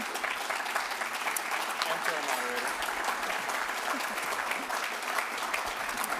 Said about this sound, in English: Can we have a big round of applause for every candidate?